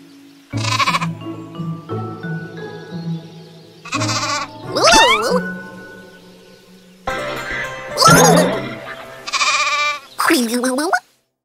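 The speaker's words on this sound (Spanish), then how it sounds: "There sure are some crazy colored sheep on this farm." Brightly colored sheep on a farm bleat loudly and repeatedly, each call wavering, with several overlapping voices and short pauses between them.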